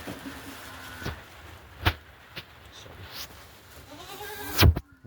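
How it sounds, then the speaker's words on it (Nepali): A water buffalo lets out one bellowing call near the end, preceded by a few short scattered knocks and rustles in an outdoor setting. "त्यो भैँसी कराकरै छ आज"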